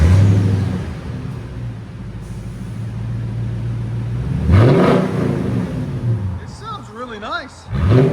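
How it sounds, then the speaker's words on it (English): A 2014 Toyota Sequoia 5.7L V8 with a Dynomax race bullet, resonator delete and roll tip settles into a deep idle rumble and then revs in several rising and falling bursts, with someone talking over it. "So 14 Sequoia with Dynomax race bullet, resonator delete, and roll tip."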